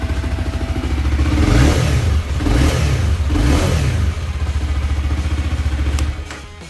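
A 2015 Honda CBR 300R motorcycle engine revs up and down repeatedly, loud and close, several rising and falling sweeps before settling toward idle.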